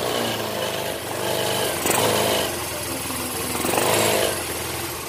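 A Yamaha Xeon carburetor motorcycle runs steadily after its battery was bypassed with jumper wiring, a close, continuous engine drone with slight surges.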